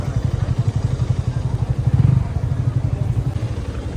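Many motorbikes ride past at close range, their engines making a loud, continuous rumble and clatter.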